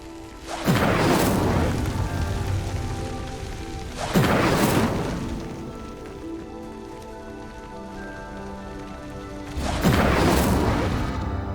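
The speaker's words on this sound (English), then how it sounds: "The flames make the pyre sink." In Hogwarts Legacy, a burning pyre sinks after an Incendio spell. Three loud, crashing whooshes land several seconds apart, and each one fades into a low rumbling tail.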